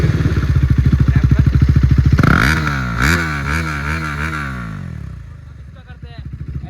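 A motorcycle with a loud exhaust and no wrap, tested for loudness, idles in a fast, throbbing beat and then revs hard in rising and falling surges, close and very loud, with a voice briefly over it.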